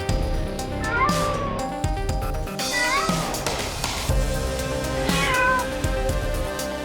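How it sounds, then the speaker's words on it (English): A cat stuck in a tough spot gives several loud, drawn-out, pleading meows one after another over a soundtrack of steady background music. "The cat desperately needed a helping hand to get out of a tough situation"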